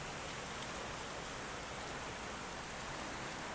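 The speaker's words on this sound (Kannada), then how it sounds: "ಅಷ್ಟು ಜೋರಾಗಿ ಮಳೆ ಬರ್ತಿದೆ" Heavy rain drums steadily around a moving express train on the Bangalore to Murudeshwar line, a dense, unbroken hiss that fills the whole stretch with no voices.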